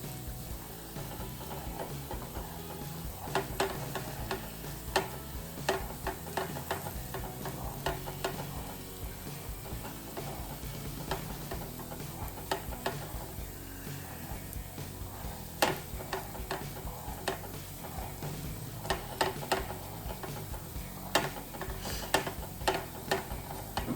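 Onions frying in a pan, a steady sizzle with scattered clicks and scraping touches of a utensil, close and continuous with no talking.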